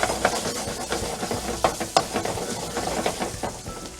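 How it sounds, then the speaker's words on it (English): Zucchini sizzles in melted butter in a pan, a steady frying hiss broken by stirring clatter and soft scraping taps, close and moderately loud with no talk. "Add our zucchinis."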